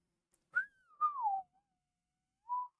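Someone attempting to whistle produces a thin, high-pitched airy tone that slides downward, then breaks off and returns as a short steady note; close, soft, with no speech.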